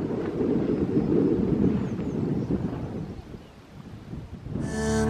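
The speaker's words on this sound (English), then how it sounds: "It's kind of windy up here." Wind gusting across a microphone at an overlook between Bean and Bear Lake on the Superior Hiking Trail, a loud low rumble that swells and fades, ending in a brief sharp noise.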